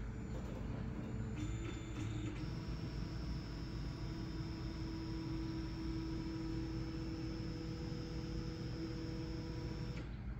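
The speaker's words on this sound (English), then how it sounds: "the machine goes all the way back" A Wazer desktop waterjet cutter runs with a steady mechanical hum and motor whine as its carriage travels back, a continuous loud drone with a high tone rising partway through and cutting off near the end.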